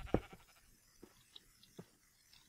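A sheep in Minecraft gives one short, loud bleat near the start, followed by a few faint, scattered game noises in a quiet background.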